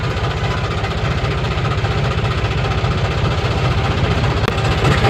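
A tractor engine idles steadily at a mountain ghat at night, with a continuous low, rhythmic throb that stays loud and close throughout without a break.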